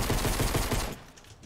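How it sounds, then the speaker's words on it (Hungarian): Rapid gunfire in the Fortnite video game lands as a dense burst of loud, closely spaced shots for just under a second, then cuts off into quieter trailing noise. "Várjál, mert lövöm."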